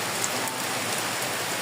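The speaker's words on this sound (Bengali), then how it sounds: "ঢাকাতে বৃষ্টি হচ্ছে অনেক" Heavy rain pours down in Dhaka, a dense, even hiss of drops striking surfaces close by, continuous and without voices.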